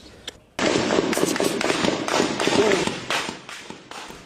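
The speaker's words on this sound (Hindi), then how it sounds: "पाकिस्तानी सैनिकों ने ताबड़तोड़ फायरिंग की।" Rapid gunfire from Pakistani soldiers firing on protesters, a dense string of sharp, crackling shots that bursts in abruptly after a brief pause and keeps going without letup.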